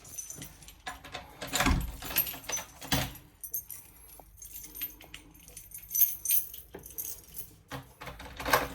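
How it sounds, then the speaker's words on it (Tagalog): A bunch of keys jangles close up in repeated metallic clinks and rattles, with soft handling thumps in a quiet hallway and no talking over it. "Oops, susi ko."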